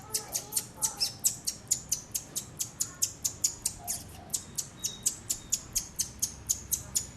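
A flock of ababil birds from a retold Quran story squawks in fast, evenly spaced calls, close and continuous, with a few softer chirps beneath.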